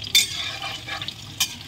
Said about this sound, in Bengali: এদিকে তো ভাজা হচ্ছে, একটু নাড়িয়ে দেবো